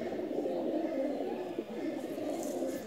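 Young blue-tailed pigeons coo in a steady, low, murmuring chorus, close by and continuous throughout.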